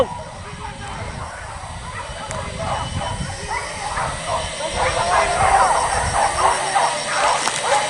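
Several dogs bark and yip in an outdoor rural setting near rice fields during a wild boar hunt, the barking rising louder toward the end while people talk and call out over it.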